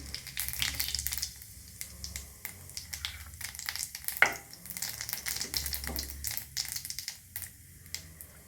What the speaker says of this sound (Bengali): এবার তেল গরম হয়ে গেছে, এবার এর মধ্যে আমি দেব সাদা জিরা ফোড়ন।